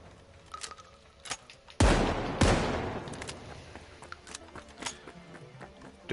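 Shotgun fire in The Finals, heard as two loud, heavy blasts close together, each decaying over a quieter background of scattered game clicks and impacts.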